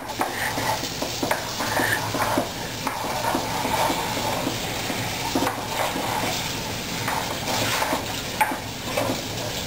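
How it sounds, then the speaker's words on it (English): Crawfish étouffée being stirred in a pot, a steady scraping and sloshing of spoon against metal with a soft sizzle underneath, continuous and close for the whole stretch. "And we'll give this, as Randy would say, a good stir."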